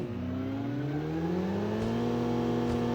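A motorcycle engine in PUBG whines steadily with rising and falling pitch as the bike rides along, loud and continuous with no talking.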